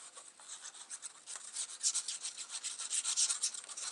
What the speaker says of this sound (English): we're going to add glue and we'll burnish at the same time